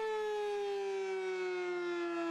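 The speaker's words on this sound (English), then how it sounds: "Storm sirens in Grandfield give off an all too familiar sound when severe weather hits" A single sustained storm warning siren wail in Grandfield, Oklahoma, steady and droning with a slight downward drift in pitch, heard from a distance with no voices.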